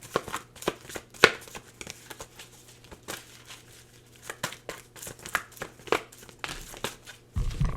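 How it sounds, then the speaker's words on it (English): Oracle cards being shuffled and pulled from a deck, giving a string of soft papery riffles, flicks and crinkly slaps in irregular bursts, close and fairly quiet, with no talking. "let me just pull you some oracle cards here."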